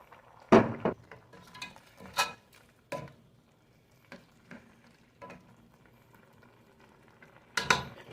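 Milkfish and string bean stew with chorizo de Bilbao simmering in a pot, a low bubbling bed broken by sharp clinks and scrapes of a utensil against the pot at irregular intervals.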